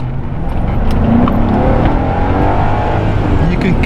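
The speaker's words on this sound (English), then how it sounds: "roll down the glass too so I can hear a little bit of that V8 motor." A straight-piped V8 Genesis sedan accelerates with the window down, its engine a steady low drone beneath road and wind noise, heard from inside the cabin.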